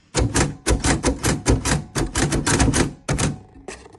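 A Perkins braille writer is typed on up close, sharp mechanical key strikes in quick uneven bursts with short pauses and a final clack after a gap.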